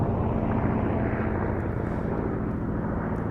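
WWI BE-2E biplane flying at a VE Day air show, its propeller engine giving a steady, continuous droning rumble throughout.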